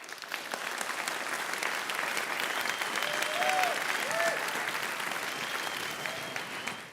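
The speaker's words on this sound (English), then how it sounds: "I think that applause is for everyone." An audience claps steadily at the close of a lecture, a dense, even wash of applause heard from a moderate distance for several seconds, with faint voices beneath.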